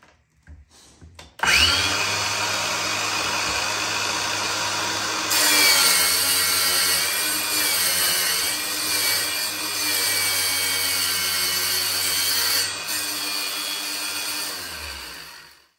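Ryobi cordless 5.5-inch-blade flooring saw making a length cut through LVP flooring, a loud steady whine with blade grind and rasp that starts abruptly, runs continuously for about fourteen seconds, then stops.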